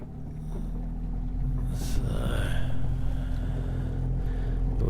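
A racing sailboat pushes through open water near Hobart during an attempted tack, giving a steady close rush of hull and water noise, with a low, constant rumble underneath and a brief hiss of spray partway through.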